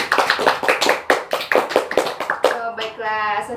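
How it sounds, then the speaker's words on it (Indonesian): A classroom group applauds after a teacher's lesson, a dense run of many hands clapping steadily and close, thinning out near the end as a voice starts speaking. "Kita kasih aplaus dulu untuk kita semua"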